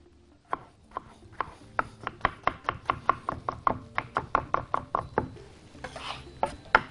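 A knife dices peeled tomatoes into cubes on a cutting board, about twenty crisp, evenly spaced taps in quick rhythm, close and clear with no talking.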